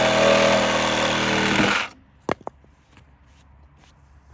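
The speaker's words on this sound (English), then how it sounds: "We couldn't get quite through it with the circular saw, so we've got to resort to the Sawzall." Sawzall reciprocating saw cutting through a board left partly cut by a circular saw, a loud harsh rattling buzz for nearly two seconds that stops abruptly, followed by a couple of sharp knocks in near silence.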